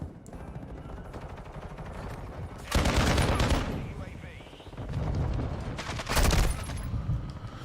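A light machine gun fires in Modern Warfare 2, with loud sustained automatic bursts in two or three long stretches over continuous game noise and a talking voice.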